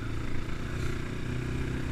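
A Progasi Gaudi 300 motorcycle with a 174 engine hums at a steady, fairly quiet idle or low cruise, a low droning engine note with slight fluctuations and no voices.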